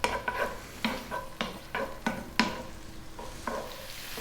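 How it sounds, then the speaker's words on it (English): Garlic and cumin seeds frying in a pan over medium heat alongside onion, a soft steady sizzle broken by repeated sharp scraping strokes of a utensil stirring, with no voices. "tablespoon of garlic, teaspoon cumin seeds. We're going to go for about 4 minutes on a medium heat"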